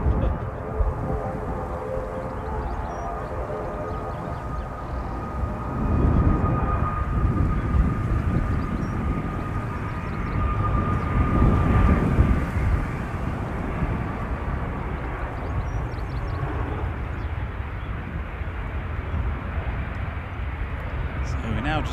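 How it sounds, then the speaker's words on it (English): A Loganair Embraer ERJ-145 arriving from Southampton at Manchester Airport on a very windy day, its broad engine roar swelling and holding steady near the runway, with gusting wind noise and people talking over it. "Coming in next, Logan Air Flight 368 from Southampton"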